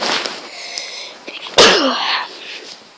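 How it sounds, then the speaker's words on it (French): A French-speaking woman with a cold lets out one sharp, loud sneeze just past the middle, preceded by a breathy build-up and followed by a short fading exhale, with noise in the background. "J'ai envie d'éternuer."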